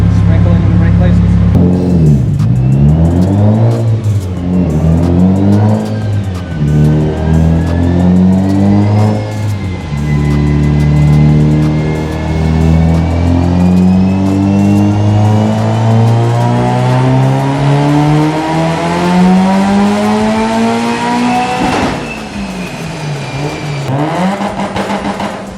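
Mitsubishi Evo 8 engine revving hard on a dyno, loud rising and falling pulls through the rev range with harmonic sweeps, then a sustained climbing pull; voices heard faintly under the engine.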